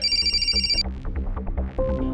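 A phone rings with a bright electronic ringtone that cuts off abruptly. After a short quiet gap, a tone starts again at the end.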